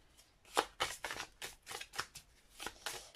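An oracle card deck being shuffled by hand: a series of crisp riffling and slapping bursts in an irregular rhythm, close and fairly quiet, with no voices.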